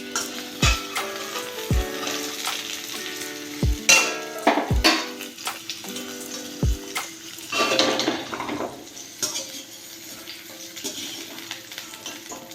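Potatoes and papaya fry in mustard oil with a steady sizzle, broken by several sharp clanks of a utensil against the pan in the first seven seconds, then a softer continuous crackle.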